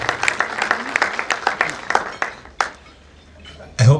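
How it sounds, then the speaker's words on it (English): A round of audience applause for a gentleman at a lunchtime institutional event, a dense burst of many hands clapping that thins out and fades, with a voice starting up right at the end. "another round of applause for the gentleman"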